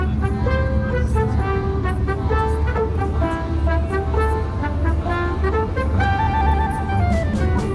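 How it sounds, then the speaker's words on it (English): Dense Los Angeles street traffic rumbles loudly and steadily while car horns toot repeatedly in overlapping tones throughout. "We know we're now in Los Angeles because there's loads of traffic"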